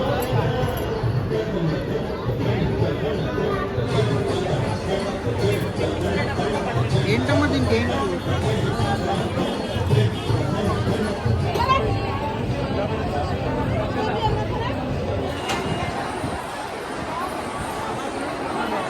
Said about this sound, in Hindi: यहाँ पे बहुत ज़्यादा भीड़ है